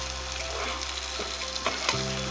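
Vegetables and dried rupchanda fish are stir-fried in a pan, giving a loud, steady sizzle with intermittent scraping stir strokes close up.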